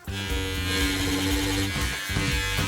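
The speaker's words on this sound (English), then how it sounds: "Let's put the Wahl Manscaper to the test" A Wahl Manscaper electric trimmer runs continuously with a loud, steady motorized buzz and strong harmonic drone, wavering slightly in pitch as it works, heard alone without talk.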